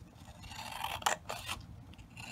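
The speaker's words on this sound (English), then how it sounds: "grab a pair of scissors and cut the excess part off" Scissors snipping the excess paper off a white origami bat fold, a few quiet rasping cuts in a cluster near the middle, close by and alone.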